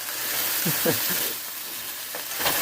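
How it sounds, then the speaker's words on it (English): Fresh purple onions frying in a pan on a stove inside a van, a steady loud sizzle with a few faint stirring scrapes and brief bits of voice underneath. "Alright, so we threw in our fresh onions"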